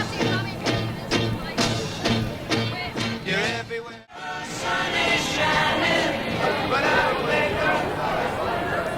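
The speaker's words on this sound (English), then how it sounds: "just listen to this crowd in Aberdeen sing along with this one" Crowd at a 1981 Aberdeen disco Christmas party singing along loudly to a song, many voices over the music with a brief dropout midway before the singing resumes.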